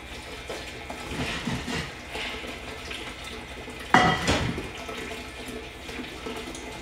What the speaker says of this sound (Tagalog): dito maghuhugas kami ng pinggan or kaldero